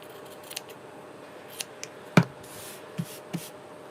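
Scissors snip through a handmade paper tag in a quiet room, one sharp cut standing out among a few lighter clicks and rustles, close and alone.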